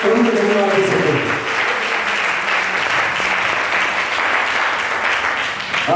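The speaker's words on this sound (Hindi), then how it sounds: "ताली आप बजा सकते हैं," A church congregation claps steadily during a worship service, loud sustained applause throughout, with a voice speaking briefly at the start.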